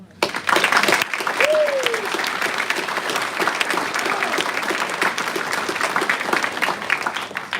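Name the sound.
applause at graduation ceremony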